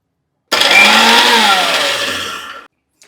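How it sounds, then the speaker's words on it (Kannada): A kitchen mixer grinder whirs loudly for about two seconds as it blends ridge gourd chutney with water, starting abruptly and slowing slightly before cutting off. "ಇವಾಗ ಇದನ್ನ ಮಿಕ್ಸಿ ಜಾರಿಗೆ ತಗೋತೀನಿ."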